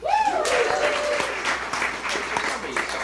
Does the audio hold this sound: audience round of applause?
yes